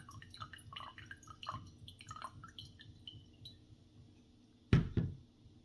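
Water is poured slowly and steadily over ground coffee sitting on an Ikape v3 metal and glass coffee scale. It makes a soft, continuous trickle, and two louder clinks sound close by near the end.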